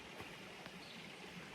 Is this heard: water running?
yes